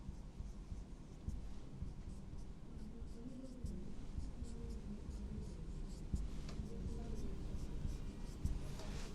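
A marker or chalk scratches across a classroom board during a chemistry lesson, faint and continuous under a low room hum.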